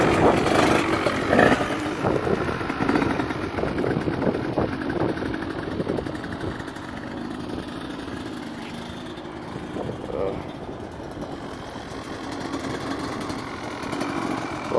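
A 2009 KTM 200 XCW two-stroke motorcycle engine warming up before an oil drain, running with an uneven idle and a few blips, close by, with people talking over it.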